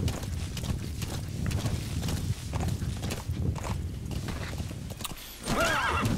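Horse in the video game Metal Gear Solid V: The Phantom Pain, with steady clip-clop hoofbeats under a layer of game ambience and a loud whinny breaking out near the end.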